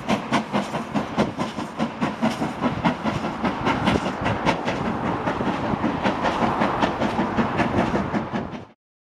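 A heritage train rolls past on the Scarborough to Whitby line with steady clickety-clack rhythm of wheels over rail joints, loud and close, holding for several seconds before cutting off abruptly.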